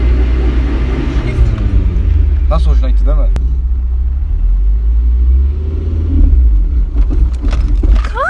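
A Tofaş car drives along with a loud, steady low engine rumble and road noise throughout, plus a few brief rattles, while people talk inside the cabin.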